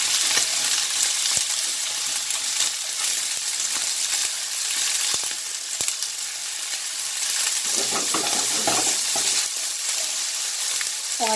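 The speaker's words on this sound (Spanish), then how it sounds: "Y vamos a esperar a que se sofrían un poco." Chickpeas frying in a very hot pan over high heat, a steady, loud, dense sizzle and crackle running throughout with scattered sharper pops, no talking.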